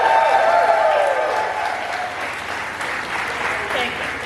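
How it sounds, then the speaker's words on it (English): An audience at a Rosie the Riveter ride event applauds steadily, a dense wash of clapping at fairly loud level, with a voice briefly audible over it early on. "Now let's give Amy and Robin a nice round of applause."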